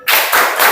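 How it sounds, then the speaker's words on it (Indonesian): A classroom group claps a quick rhythmic cheer, a few sharp bursts of many hands close by in under a second. "Tepuk semangat."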